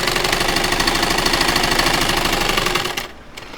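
Sewing machine stitching a side pocket onto palazzo pants, a fast, even mechanical clatter running close and steady for about three seconds before abruptly stopping.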